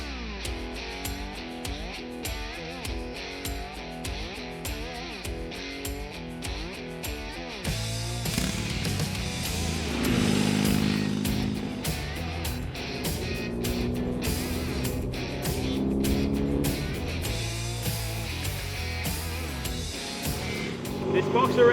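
A 2022 BMW R 18 B touring motorcycle's boxer engine cranks and fires up, then settles into a deep, rumbling idle with a few revs, loud and close, after a stretch of rhythmic background music.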